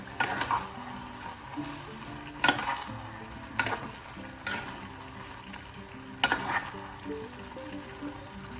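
Chicken liver with black pepper, curry leaves and a spoon of coconut oil sizzles steadily in a pan while a spoon scrapes through it in a few separate, irregular strokes, close and moderately loud.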